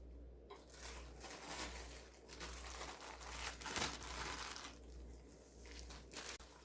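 Plastic wrap around beef sirloin crinkles and rustles continuously close by as the meat is handled and added to a bowl of marinade, with soft squishy handling noises and a faint low hum underneath.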